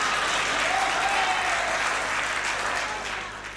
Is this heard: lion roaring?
no